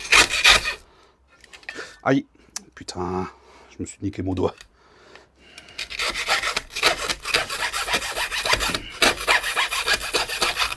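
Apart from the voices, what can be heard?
hacksaw cutting braided hose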